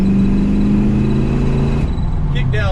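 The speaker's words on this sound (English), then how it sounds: "Kick down's working." A truck engine drones steadily under acceleration as the transmission kicks down, the tone shifting partway through, with a voice speaking briefly near the end.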